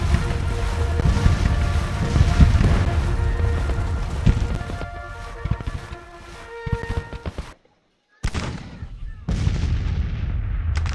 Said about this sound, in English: Artillery, I'm just chasing around and shooting the hell out of them.